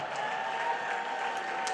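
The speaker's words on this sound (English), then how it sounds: "give a resounding round of applause to the last woman standing" Applause at an anniversary event honoring Dr Olusegun Agagu, a continuous, fairly soft patter of many hands clapping, even in level, with a thin sustained tone beneath and a few sharper claps standing out.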